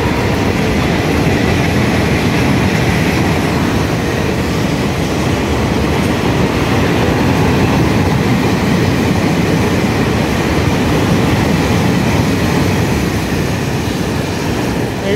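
Freight train 7536, hauled by a single E306 electric locomotive pulling empty hopper cars on Taiwan's Yilan Line, rumbles past loud and close with a continuous roar and rattle of wheels.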